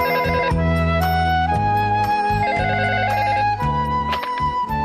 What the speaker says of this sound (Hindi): शिनचैन, मसाओ का फोन है, जल्दी आओ